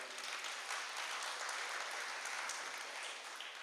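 An audience at an Onam celebration gives a burst of sustained clapping, dense and even, filling the hall for a few seconds without speech over it.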